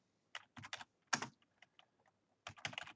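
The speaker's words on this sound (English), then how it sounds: "So we're going to type in COVID-19" Search terms being typed on a computer keyboard, with short clusters of crisp, close key clicks separated by brief pauses, quiet and alone.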